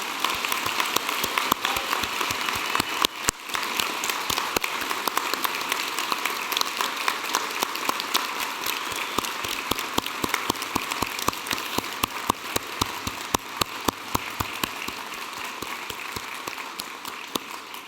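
Graduation ceremony audience at the University of Newcastle, Australia, claps in a long, dense, even ovation, a crackling wall of many hands filling a large hall steadily throughout.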